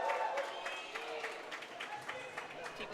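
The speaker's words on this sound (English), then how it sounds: "People are cheering." A crowd at a sports match cheers and claps, a steady wash of applause and voices heard from a distance throughout.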